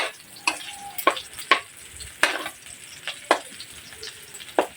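Oil spitting and sizzling in a pan while squash cooks, with a steady close hiss broken by sharp crackling pops at irregular intervals, about eight bursts and no talking.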